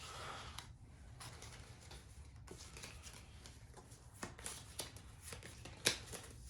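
Quiet, close shuffling of cards from the Book It! pro wrestling card game, with a run of soft riffling and flicking and a few sharper snaps near the end.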